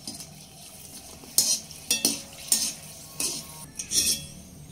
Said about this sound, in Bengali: এবার কয়েক পিস শুকনো লঙ্কা ভেজে নেব।